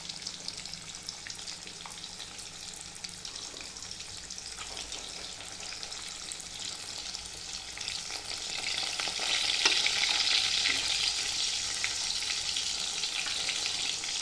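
Fish sizzles steadily as it fries in a pan, a close, continuous crackling hiss that grows slightly louder partway through, with no talking.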